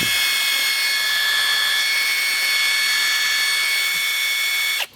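A Hercules 20V half-inch drive cordless impact wrench free-running at speed setting 3, giving a steady, loud high-pitched motor whine that holds evenly for about five seconds before cutting off, with no talking.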